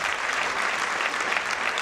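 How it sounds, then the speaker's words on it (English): A church congregation claps for Jesus during a testimony service, a dense and continuous roll of many hands applauding at steady volume throughout, with no voices standing out. "Clap hands for Jesus"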